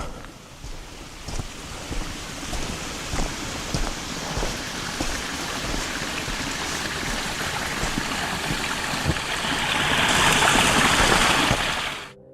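Loud rushing water flows steadily close to a campsite, a broad continuous wash with splashy bursts that swells louder toward the end before cutting off.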